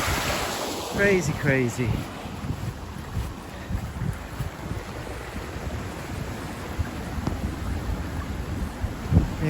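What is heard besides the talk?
rushing torrent of a swollen stream in rain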